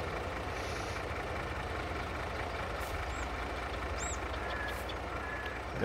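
A truck engine in Farming Simulator 22 runs at a steady idle, a constant low rumble filling the whole stretch with faint high beeps and chirps from the game scattered above it, no talking.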